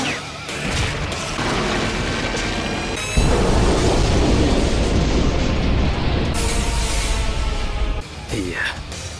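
A loud, rumbling explosion from the anime Naruto bursts in and sustains a heavy roar for several seconds before cutting off.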